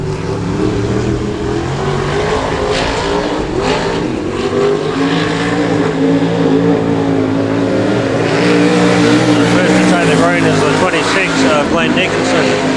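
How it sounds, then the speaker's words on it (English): Limited sprint cars race on a track during qualifying, two cars at a time, their engines roaring loud and continuous with revving swells, while a commentator talks over the noise. "we're moving into qualifying now, so each car will have 2 laps with 2 cars on the track each time."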